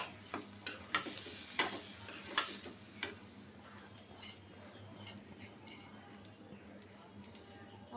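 Washed lentils going into onion and garlic fried until red, a faint sizzle with a run of spoon taps and scrapes early on that fade into quieter frying.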